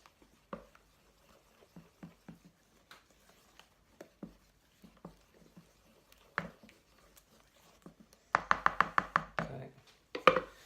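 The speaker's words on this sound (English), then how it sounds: "We're now just going to add the NutriBullet yoghurt, give that a mix up" Yoghurt for a goose curry being mixed in a bowl, soft scattered taps and scrapes of a spoon at an irregular pace, turning into a quicker, louder run of clinking strokes near the end.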